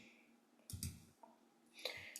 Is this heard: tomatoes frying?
no